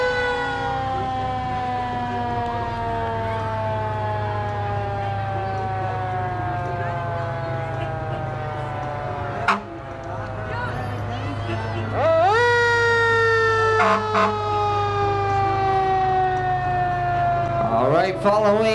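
Emergency vehicle sirens from an installer's entry in a holiday parade wail in long rising and falling sweeps, loud and close over a low engine rumble, with a sharp horn blast and a public-address announcer talking throughout.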